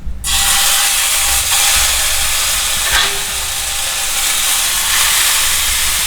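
Beef steak searing on its sides in a hot pan, a steady loud sizzle and hiss of frying fat that holds unbroken from start to finish with no voices over it.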